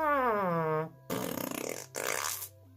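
A voice playfully imitates a guinea pig fart: a squeaky, sliding tone followed by two short, breathy, sputtering bursts with a brief pause between them, close and fairly loud.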